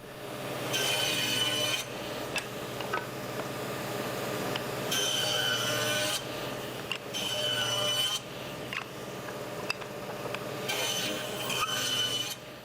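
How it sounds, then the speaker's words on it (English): A table saw set a quarter inch deep at a five degree tilt runs steadily while cutting grooves in wood, with several bursts of bright, harsh cutting noise over the constant motor whine and no talk. "I'm going to set the table saw to 1/4 inch deep and 5 degrees"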